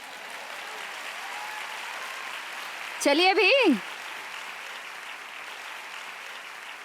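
Steady audience applause fills a hall during a teaching event on living courageously, a continuous even clatter of hands with a brief spoken voice cutting in near the middle.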